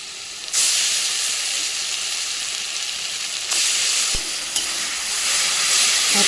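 Garlic and onion paste, added with bay leaf and a dried chili, fries in a pan for a meat curry. It gives a loud, continuous sizzle with bursts of hiss as it is stirred, and no voices.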